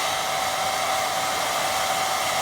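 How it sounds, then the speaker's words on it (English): A hair dryer on a low setting blowing over wet watercolour paint on paper, a steady, continuous, close whirring roar with no breaks. "Going low with air dryer because I've got all that thick puddles"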